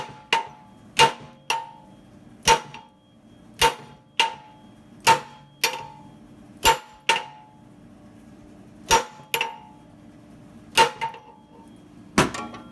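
A hammer strikes a Honda ball joint beside the steering knuckle, about fifteen sharp metallic clangs at a steady, slightly uneven pace, each ringing briefly before the next, loud and close with no talk.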